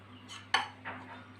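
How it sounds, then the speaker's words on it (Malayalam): Boiled potatoes are stirred into a mixture in a pan; a spoon scrapes and gives one sharp metallic clink, followed by softer scraping, close and quiet. "നമ്മൾ ബോയിൽ ചെയ്ത് വെച്ചിരിക്കുന്ന കിഴങ്ങ് ചേർത്ത് കൊടുക്കാം ചേർത്ത് ഇതെല്ലാം കൂടെ ഒന്ന് മിക്സ് ചെയ്യുക"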